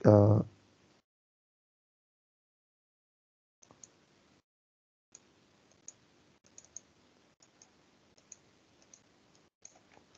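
Computer mouse clicks while working in ANSYS simulation software, a scattering of faint, sharp single clicks spread irregularly over quiet, following a short burst of speech at the start.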